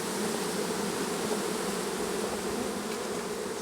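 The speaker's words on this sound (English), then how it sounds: "bees were on the back of my hive" Steady, dense buzzing of many honeybees swarming at the back of a beehive, close and continuous with no voices.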